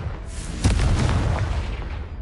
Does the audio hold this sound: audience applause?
no